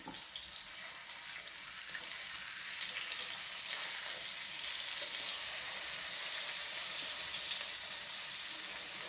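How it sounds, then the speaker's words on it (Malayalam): Pomfret fish half-frying in a pan gives a steady, fairly loud bright sizzle that holds for the whole stretch and swells a little partway through, with no talk over it. "നല്ലോണം ഫ്രൈ ആവണ്ട കേട്ടോ ഒരു ഹാഫ് സെമി ഫ്രൈ അങ്ങനെ ആയാൽ മതി"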